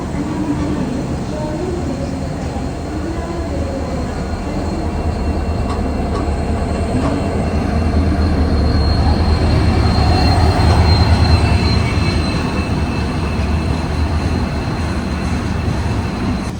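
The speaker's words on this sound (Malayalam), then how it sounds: "ഒരു ഗുഡ്സ് വരുന്നുണ്ട്, ആ ഗുഡ്സ് പോകാൻ വേണ്ടി അതത് പിടിച്ചിട്ട് കണ്ടോ." A goods train rolls past a stopped Raptisagar Express, a loud, close rumble of wagons and clattering wheels that swells toward the middle, with occasional wheel squeal, continuing steadily for the whole stretch.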